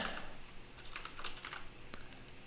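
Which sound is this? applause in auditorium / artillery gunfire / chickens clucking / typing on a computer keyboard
typing on a computer keyboard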